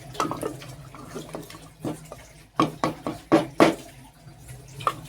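Water is poured into mutton curry in a pressure cooker, making splashing bursts and a few louder glugging pours at close range, with no talk over them.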